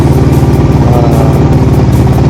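An RT3 motorcycle fitted with a Thai X battery runs after starting, its engine chugging in a steady, rapid mid-pitched idle, loud and close with no pauses.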